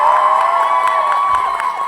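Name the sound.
middle row of seminar audience clapping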